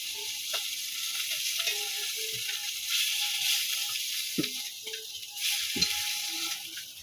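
Rui fish pieces sizzle in hot oil in a kadai for a home fish curry, a steady broad crackling hiss running throughout with a few short clinks and stirring knocks, close and fairly loud.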